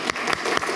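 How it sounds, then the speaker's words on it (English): A lecture audience gives a brief round of applause, less than a second of close, dense clapping with no voices. "Round of applause."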